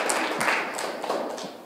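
A small audience at a student collective's final showcase claps briefly, a short burst of scattered applause with a few sharper individual claps, fairly close and with no talk over it.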